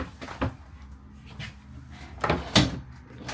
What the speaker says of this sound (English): Good drawer.